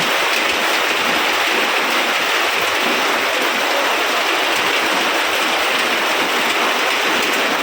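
A sudden downpour of rain over a village vegetable garden, heard as a steady, dense, loud hiss that fills the whole stretch without pause and with no voices.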